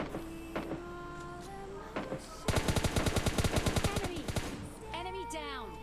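Rapid automatic gunfire from bots in PUBG Lite rattles through a busy game soundscape with steady background hum and electronic tones, a dense burst of repeated shots lasting over a second at moderate volume.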